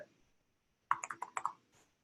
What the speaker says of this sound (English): so I guess I can type it here.